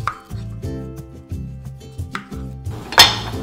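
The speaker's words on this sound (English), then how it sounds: "with the onion, you wanna cut it even smaller than the tomato" A small-medium onion diced finely on a cutting board for homemade Costa Rican salsa: a quick run of sharp, evenly spaced knife taps, close and clear, ending in a louder clatter, with no voices.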